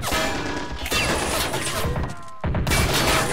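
Gunfire and explosions from the Strateejik Battles war game, with a modern North Korea and China attack on a US airbase, crackle in dense, continuous bursts. The fire drops out for a moment near the end, then resumes loudly.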